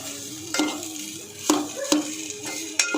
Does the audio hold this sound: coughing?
no